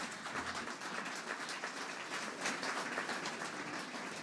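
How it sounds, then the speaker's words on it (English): An audience at the state memorial service for Dr John Olsen AO claps in soft, sustained applause. The clapping is faint and distant, a steady patter lasting a few seconds. "to William Martin, a big round of applause."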